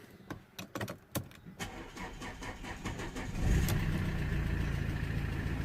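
A Mercedes E250 CDI diesel with a no-power fault and a P0240 code is started after clicks and key jangling, the starter cranking briefly before the engine catches and settles into a steady, loud idle.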